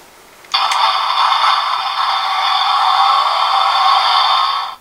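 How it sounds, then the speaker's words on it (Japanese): A DX Build Phone toy from Kamen Rider Build, switched to its Machine Builder bike mode, plays a loud, sustained electronic engine-style effect that starts abruptly and runs for about four seconds before cutting off, with no voices over it. "おー、マシンビルダーの音になってんだね。"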